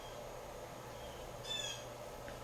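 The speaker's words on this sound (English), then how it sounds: "I'm not sure what kind of bird that is, but he doesn't seem happy at all. Or it's a mating call." An unidentified bird calls outdoors in a short, faint burst of a few high chirps against steady low background hum.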